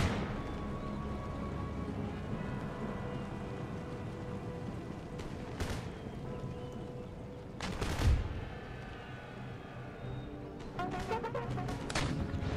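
Naval cannon fire in the strategy game Empire: Total War, a continuous rumbling battle bed broken by several sharp booming shots, the loudest near the middle and a cluster of cracks near the end.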